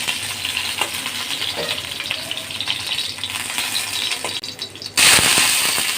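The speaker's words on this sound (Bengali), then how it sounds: "মরিচগুলো আগে ভেজে নিতেছে" Chillies sizzle in oil in a pan with a continuous close crackle and hiss, stirred now and then, and the sizzle turns suddenly louder and brighter near the end.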